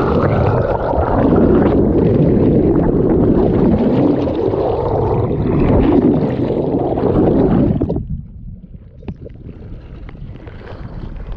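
A small sailing dinghy moves through water, its stern wake and rudder giving a loud, close, continuous rushing wash with wind buffeting for about eight seconds before dropping to a quieter low rumble.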